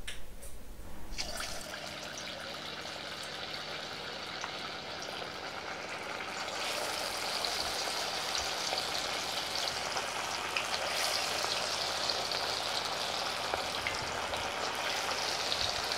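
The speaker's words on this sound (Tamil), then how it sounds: "இப்போ நம்ம ஒரு பீஸா போட்டு பொரிச்சு எடுத்துக்கலாம்." Chicken 65 pieces deep-frying in medium-hot oil set up a steady, crackling sizzle that starts suddenly and swells louder partway through, then holds as a dense, bubbling hiss with no voices.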